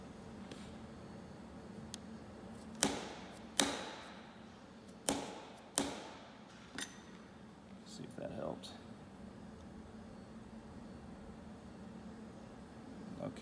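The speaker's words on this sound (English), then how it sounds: "I'm gonna actually smack the top of the material with the soft hammer." Several sharp metallic smacks of a soft hammer on a thin metal workpiece held for milling, four louder strikes and a couple of lighter ones, ringing briefly over a low background hum.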